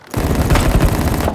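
Rapid automatic gunfire from the mobile shooter Battle Prime, a loud, close burst of fast repeated shots running almost continuously, with no talk.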